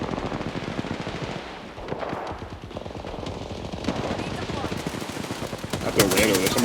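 Bursts of machine gun fire in a team battle-royale shooter game, close and sustained, with some faint overlapping game sounds and voices mixed underneath.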